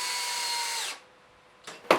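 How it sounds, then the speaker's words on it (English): A power drill bores a countersunk hole into pine wood, whining steadily close up before spinning down, followed by a couple of short bursts and a clunk. "drill 1-inch deep countersunk holes so that we can get the deck screws in"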